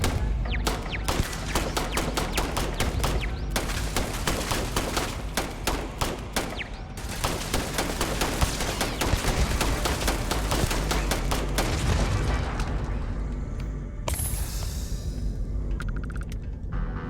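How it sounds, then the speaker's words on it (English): Automated turret firing in Starfield, a dense, rapid burst of gunfire hammering close and loud for about twelve seconds before easing into scattered blasts and rumbling impacts. "Turret."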